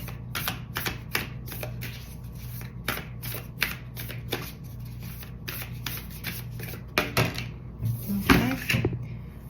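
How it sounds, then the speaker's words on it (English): Tarot cards are shuffled in rapid bursts of crisp riffling clicks, close and steady over a low background hum, with a few louder rustles near the end. "I swear I shuffled it like 4 or 5 times"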